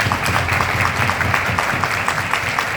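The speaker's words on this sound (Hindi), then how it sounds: "एक बार जोरदार तालियां।" An audience claps at a gathering in Delhi, a dense, steady patter of many hands close by with no talk over it.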